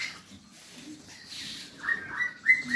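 Caged starlings, Bali and Hong Kong mynas, call in short whistles and chirps at moderate distance, faint at first and growing clearer, over a quiet background hum.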